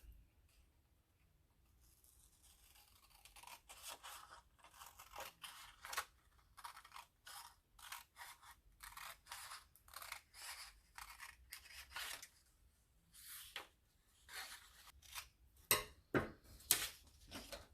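Scissors snip steadily through paper strips for a paper-craft watermelon fan, a long run of close, crisp cuts that get louder toward the end, with no talk.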